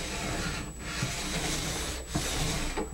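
Lubricated tuning stone rubbed back and forth along a ski base, a close, soft rasping scrape repeating in steady strokes with brief pauses between passes.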